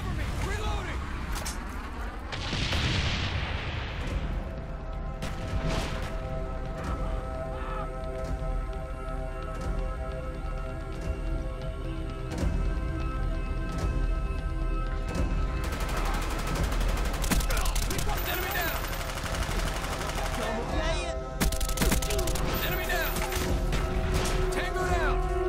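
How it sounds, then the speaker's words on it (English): Napalm strike explosions and dense gunfire from the video game Call of Duty Black Ops, a continuous loud barrage of bursts, blasts and crashing impacts that runs throughout with game announcer voices over it. "Friendly napalm strike on the way."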